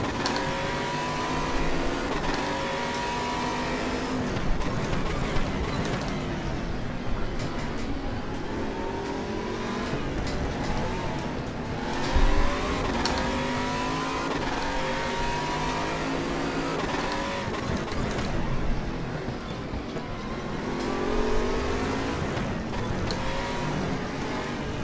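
Aquila CR1 Sports GT race car engines on the RaceRoom Raceway in a racing video game, loud and continuous, revving up and down through gear changes, with other cars close by in a pack.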